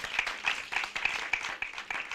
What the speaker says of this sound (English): Give me a round of applause, please.